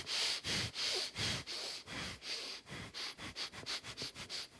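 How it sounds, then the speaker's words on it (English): Rhythmic, audible breaths of Ujjayi breathing during a guided meditation session, a run of sharp nasal inhale and exhale strokes that quicken toward the end, close and alone with no talk. "Together with Ujjayi breathing."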